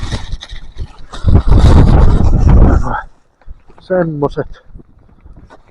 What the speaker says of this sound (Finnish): On kova tuuli.